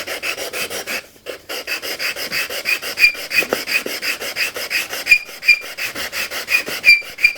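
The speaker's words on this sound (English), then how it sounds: "So we go back to our little sanding board." Rhythmic back-and-forth rasping of a small wooden box being sanded on a sanding board, loud and close, with steady repeated strokes and a brief pause early on.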